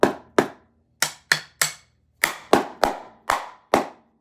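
Sharp strikes on a practice drum pad set up to sound like a snare, alternating between hits on the head and rim shots, about ten crisp taps in an uneven rhythm, close and alone.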